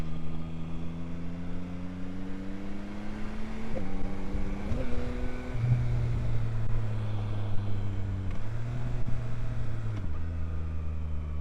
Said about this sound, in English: hear the clunk as it's going down the gears, but you can't feel it